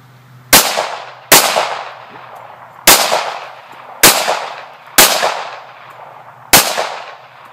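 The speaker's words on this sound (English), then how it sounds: "We're gonna go bowling here and we're gonna shoot some of these pins." Six loud, sharp shots from a Ruger SR1911 pistol fired at bowling pins, irregularly spaced with crisp echoing decays and no talking.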